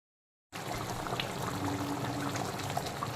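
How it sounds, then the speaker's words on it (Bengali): After half a second of silence, a cashew, mustard, poppy seed and green chili spice paste thinned with water pours into a wok for a yogurt pabda fish curry, making a steady watery splashing and bubbling hiss. "মিক্সির জারে লেগে থাকা মশলার পেস্টটা আমি সামান্য জলে গুলে কড়াইতে দিয়ে দেব"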